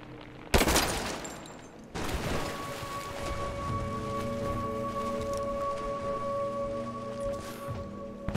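Gunfire in Rise of the Tomb Raider: a sharp loud shot burst near the start and another at two seconds, then a sustained humming game ambience with tonal drones and scattered crackle.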